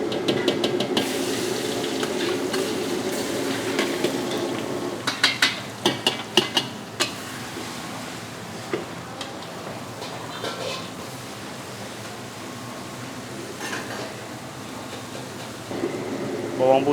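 Garlic being stir-fried for a sawi putih dish in a restaurant-scale Chinese-style kitchen gives a steady hiss and sizzle, with a few scattered utensil clinks against the pan partway through.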